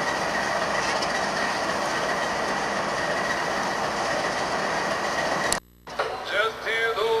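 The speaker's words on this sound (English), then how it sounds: "CP Holiday train," Canadian Pacific Holiday Train rolling past in Saratoga Springs, New York, a continuous loud rumble with rhythmic wheel clatter and squeal, then a sudden drop to near silence before the noise returns.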